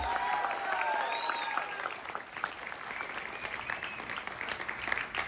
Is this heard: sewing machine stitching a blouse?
no